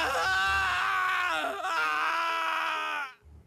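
In a German Sherlock Holmes radio drama, a man lets out one long, loud, strained scream that holds for about three seconds before cutting off abruptly into near silence.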